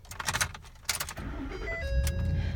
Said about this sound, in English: I'm just going to start up the truck for you.